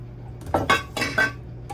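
A measuring cup and a kitchen strainer are set down on a counter, making a few quick clinks and clatters over under two seconds, close and moderately loud.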